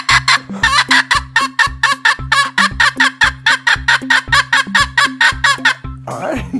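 A chicken cackles loudly and close, in a fast, steady run of about twenty rhythmic, laugh-like bursts. It ends with a short, rougher squawk.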